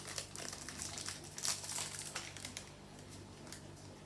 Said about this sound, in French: Toujours dur à ouvrir les packs Pokémon.